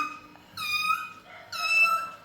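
Two drawn-out, high, tonal meows in a voice imitating a cat, close and clear, with a short gap between them.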